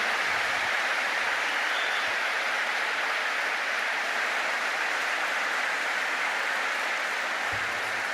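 A large audience applauds steadily, a dense, continuous wash of clapping that holds at the same level throughout.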